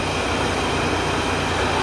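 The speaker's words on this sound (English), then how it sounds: "Just down the road over there is the entrance to East Finchley Station, with two trains passing each other." Two trains passing each other near East Finchley Station in London, heard as a steady, dense rumble and hiss with no talk, as if from a nearby bus.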